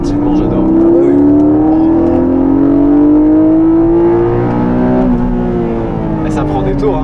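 A Porsche 718 GTS sports car engine revs high, its pitch climbing in a long, smooth, loud sweep before easing off near the end, with people talking inside the car.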